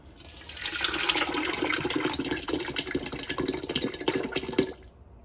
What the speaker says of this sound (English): We're going to add 1 cup of vegetable oil while this is simmering.